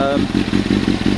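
A 2001 Kawasaki ZX6R J2 in black idles nearby, its exhaust giving a loud, lumpy, rhythmic burble with regular pulsing thumps, a voice talking over it briefly.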